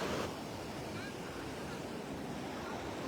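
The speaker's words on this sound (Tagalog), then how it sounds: "Medyo malakas yung alon." Ocean waves roar continuously, a dense, steady wash of surf with no pauses, fairly close and loud.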